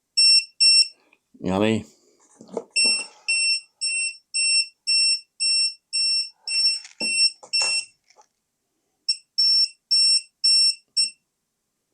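The NCV voltage detector buzzer on a Tesmen TWS 322 wire stripper gives a run of sharp, high electronic beeps in a steady rhythm, pausing briefly, with someone speaking near the start.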